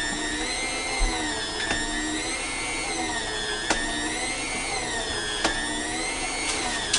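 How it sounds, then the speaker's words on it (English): Motorized meat slicer shaving a roast into thin slices, a steady whirring drone with a few faint periodic clicks as the carriage passes, close and continuous with no talking. "on our slicer. And we're going to start shaving this down real nice and thin."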